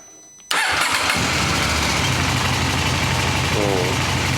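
A KTM LC8c motorcycle engine starts after a brief quiet moment, then settles into a steady, loud, close-up idle that runs to the end.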